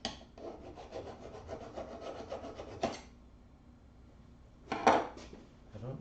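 Electric sander working on wood in a robotics build shop, a steady rasping rub for about three seconds, then quiet, then a short loud burst of sanding near the end.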